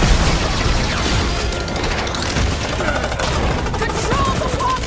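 Dense rifle gunfire from the video game Marvel's Guardians of the Galaxy on PS5, a loud, continuous rattle of shots mixed with battle noise and occasional voices.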